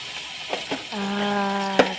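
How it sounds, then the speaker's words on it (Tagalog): Fish frying in a pan gives a steady sizzle with a few brief clatters near the start, then a held tonal hum from around one second, and one sharp knock near the end. "Sinimulan ko na pong magprito ng isda."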